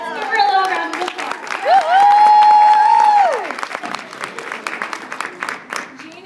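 Audience applause and cheering for a team director, with a loud sustained whoop or held vocal note over clapping, then a steady round of clapping fading out under the crowd.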